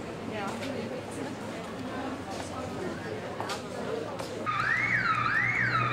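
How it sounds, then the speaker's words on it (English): A car alarm wails with rising and falling electronic sweeps, starting near the end over busy street noise and people talking nearby outside Westminster Abbey, London. "if you can hear my voice over the car alarm"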